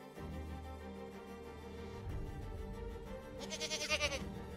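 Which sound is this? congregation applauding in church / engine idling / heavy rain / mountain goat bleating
mountain goat bleating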